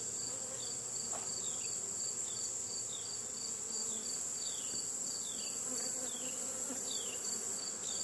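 Honeybees buzzing on full brood frames with emerging bees during re-queening with cells: a dense, steady hum of many bees close by, with individual bees rising and falling in pitch as they fly past, and no talking.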